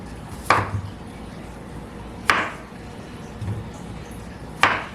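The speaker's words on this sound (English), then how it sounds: "Take a few russet potatoes here." Three separate knife chops on russet potatoes on a cutting board, each a sharp close knock spaced about two seconds apart over a quiet kitchen background.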